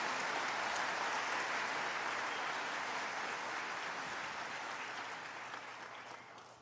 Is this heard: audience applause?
yes